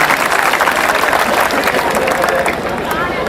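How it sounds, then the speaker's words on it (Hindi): Loud, dense applause fills a hall during a Hindi comedy poetry show, with crowd noise mixed into the clapping and a slight easing toward the end. "एक बार जोरदार तालियां बजाएं,"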